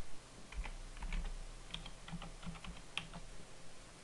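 Someone types on a computer keyboard, entering login details: soft, irregular key clicks at close range, faint and quick, with no talking.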